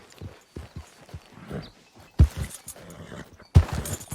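Horse hooves clip-clop in Red Dead Redemption 2, with an uneven series of soft thuds and a couple of heavier stamps as the horse moves, fairly close with no talk over them.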